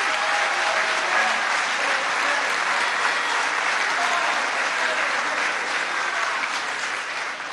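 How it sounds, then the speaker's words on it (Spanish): A crowd at a political forum applauds steadily and loudly, a dense wash of clapping that holds for several seconds with no pause. "Un aplauso para Cuba siempre."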